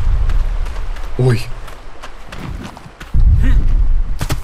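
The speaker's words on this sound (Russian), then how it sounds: "Ой, громко. Громко топчет." Heavy stomping of a large creature in ARK Ascended, a deep booming thud landing partway through over continuous game noise, with someone talking and exclaiming around it.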